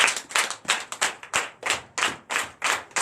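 Church congregation clapping in rhythm during a Sunday worship service in Comè, Benin, a steady run of about eleven loud, evenly spaced claps from many hands together, with no voices over it.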